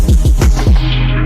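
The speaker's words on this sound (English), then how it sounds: "it sounds to me kind of like a womp sound with like a filter" A loud womp filter transition effect from a trap song: a handful of deep bass pulses swoop downward in pitch, each a wobbling 'womp', over a sustained low drone that fades out.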